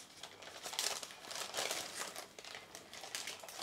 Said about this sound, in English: first thing to do is to remove the paper, which will be very easy because you've greased it with olive oil.